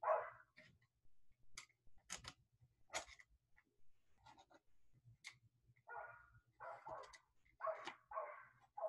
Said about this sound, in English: I have some dogs on my street who were very excited about something.